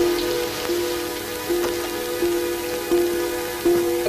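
Rain patters steadily on a spring evening, a soft continuous wash with faint drips, no voices.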